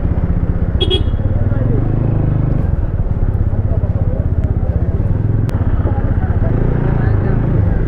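A motorcycle on the roads of Darjeeling hums with a steady low engine rumble throughout, while people talk over it.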